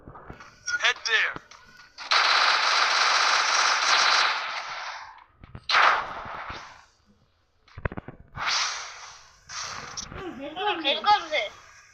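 Gunfire in a video game: sustained machine-gun bursts and single rapid shots rattle loudly in several separate volleys, with players talking over and between the firing.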